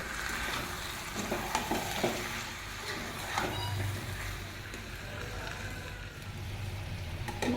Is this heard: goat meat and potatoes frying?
yes